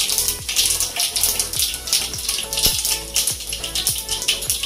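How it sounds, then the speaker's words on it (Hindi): Mustard seeds and cumin sizzle and pop in hot oil, with sharp crackles and spattering bursts repeating roughly every half second over a steady hiss. "हमारा तेल गर्म हो चुका है और अब हम आधा चम्मच राई डालेंगे"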